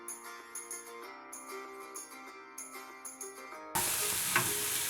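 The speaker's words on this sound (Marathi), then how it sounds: "लाल मिरची पावडर, मीठ, घालून चांगलं हलवून घेऊया।" Red chili powder and salt stirred into hot oil in a frying pan while making a green bean bhaji, starting as soft scraping under background music, then a loud steady sizzle and frying hiss near the end.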